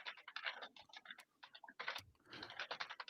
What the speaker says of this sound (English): I can hear when you type.